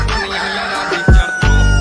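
A rooster crows loudly and close, a brief rising call that cuts in abruptly as a short standalone sound effect.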